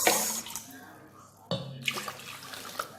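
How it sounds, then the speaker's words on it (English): Water pours into an airtight container holding caramelized corn for a Ghanaian asaana drink, a splashing, gurgling flow that starts loud, pauses, then resumes with bubbling spurts. "we are going to pour it into an airtight container, as I mentioned earlier on, and then we are going to add water into it"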